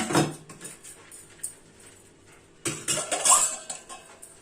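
Steel utensils and cutlery clinking and clattering while dishes and pots are washed in a kitchen sink, a sharp clatter at first, then quiet rinsing, then another run of close metallic knocks and chimes.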